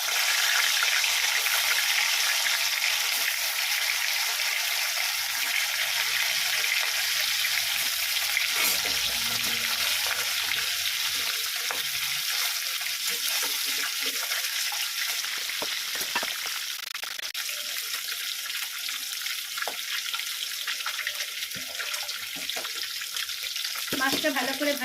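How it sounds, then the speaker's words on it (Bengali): Large pieces of fish fry in hot oil in a pan, giving a loud, steady, dense sizzle that holds without a break and rises near the end. "মাছটা ভালো করে ভাজা হতে হবে"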